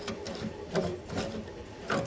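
A loose bolt spins in a welded nut that has broken free on a rusty Toyota Yaris subframe, giving a steady mechanical whirring with rhythmic pulses, close and moderately loud.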